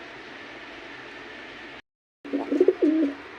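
A pigeon coos in low, rolling bursts near the end, close and clear over a steady hiss, after a brief silent gap.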